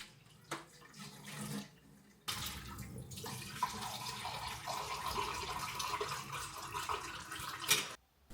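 Tap water runs while a Hotel Chocolat Velvetiser hot chocolate maker is rinsed out, brief splashes at first, then a steady rushing stream for several seconds before cutting off abruptly; fairly quiet and close.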